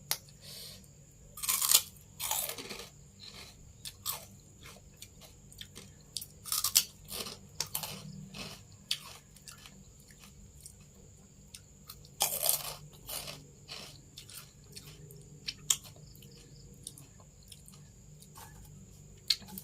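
Crunchy fried pork rinds bitten and chewed in a close-miked Thai eating show, sharp crackling crunches bursting irregularly over quiet moist chewing, with no talking.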